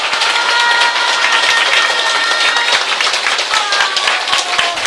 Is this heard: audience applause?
yes